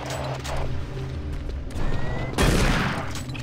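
Video game gunfire crackles in dense bursts over a steady rumbling background, with a louder, heavier volley near the end.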